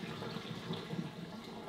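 Pasta cooking water pouring through a handheld kitchen zester used as a makeshift strainer, a steady splashing rush of liquid lasting the whole moment, close and fairly loud with no talk.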